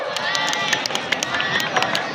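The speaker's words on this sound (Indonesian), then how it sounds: "tepuk tangan sekali lagi buat semuanya" A school audience at a junior high in Bandung claps together, dense overlapping hand claps filling the room with crowd chatter mixed in, steady and fairly loud throughout.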